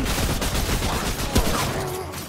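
Dense gunfire from the co-op shooter Remnant: From the Ashes, a continuous loud fusillade of overlapping shots with no pauses, filling the whole stretch with rapid bursts.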